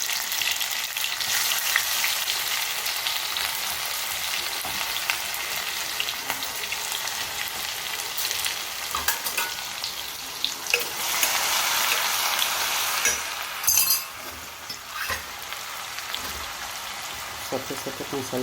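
Mustard seeds and ajwain splutter in hot oil, a continuous fine crackling hiss like light rain, with a few sharper pops, fairly faint and steady throughout.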